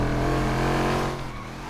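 Four-cylinder car engine revving in GTA roleplay, a loud, close, steady buzzing drone that holds high and then drops slightly as the revs ease off, with no talking.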